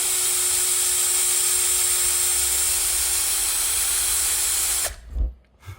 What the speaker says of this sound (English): It's drilling, but it's not drilling as it should.